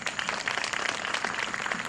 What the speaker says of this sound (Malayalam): നല്ലൊരു കൈയടി നമുക്ക് അവർക്ക് കൊടുക്കാം.